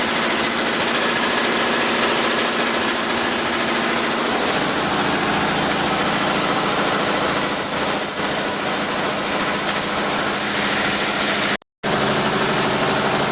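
A ten-wheel truck's engine drones loudly and continuously as it climbs a mountain road to Mon Jam, a heavy vibrating roar with a brief dropout near the end.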